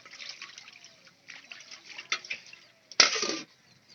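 Food is washed by hand in water in a home kitchen, giving soft intermittent sloshing and trickling, then one louder, closer splash near the end.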